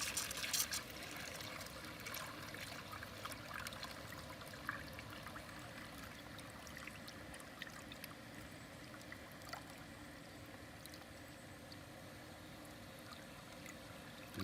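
Water trickling and gurgling as a lawn drain pump empties a drain box fed by a garden hose, a faint, steady, continuous flow with small splashes scattered through it and no one talking.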